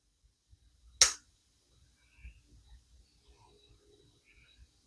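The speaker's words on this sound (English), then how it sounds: "audible click and much less trigger movement on the hair trigger to get it to release" A single sharp click as the hair-set trigger releases on an Investarms Hawken muzzleloading rifle, close and crisp, followed by faint handling noises.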